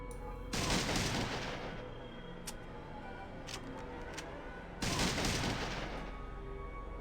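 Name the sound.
shotgun burst fire in Fallout 2 video game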